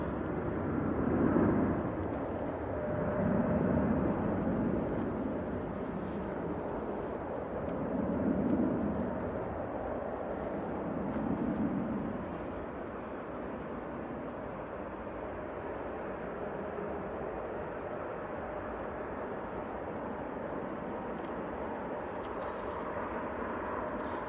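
An easyJet airliner departs for Hamburg from Manchester Airport in freezing weather, a broad distant jet roar that swells and fades in waves for the first dozen seconds, then settles into a steady low rumble.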